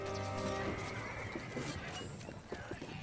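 Horses in the Stronghold Warlords strategy game neigh and whinny over clip-clopping hooves, game sounds layered and fairly quiet, with no one talking.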